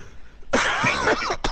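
A human voice imitates a sneeze and a cough at the same moment, a loud, close, broadband burst with a brief second burst at the end.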